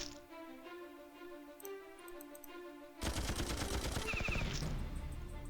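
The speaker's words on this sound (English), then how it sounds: "Should be able to just gun down these last couple guys." Tank gunfire in Battle Nations, a sudden burst of rapid, rattling shots that cuts in loudly over a quiet, tonal game backdrop, with fast ticking impacts.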